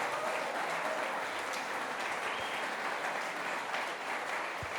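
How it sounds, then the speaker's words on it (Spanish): Steady applause from a church congregation at a servants' gathering fills the whole stretch, dense and continuous at moderate distance with no voices standing out. "Denle un aplauso al león de Judá."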